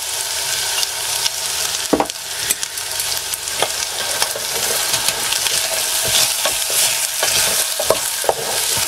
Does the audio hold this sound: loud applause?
no